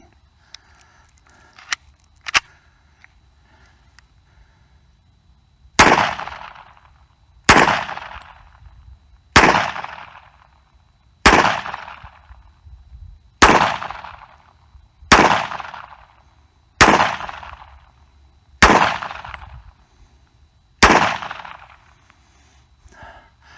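A cheap firearm fires a full magazine outdoors over soft sandy ground, ten loud sharp shots evenly spaced about two seconds apart after a couple of faint clicks, each crack trailing a short echo, with no talking.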